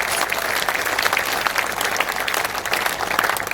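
Audience at a Hindi poetry conference breaks into dense, steady applause, a loud wash of many clapping hands that fills the whole stretch without pause.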